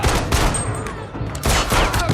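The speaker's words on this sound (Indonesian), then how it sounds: "Adu tembak terjadi karena halusinasi yang dialami tentara di luar sana." Chaotic gunfire from soldiers in a film shootout scene, loud and close, with dense bursts of overlapping shots and a short lull midway.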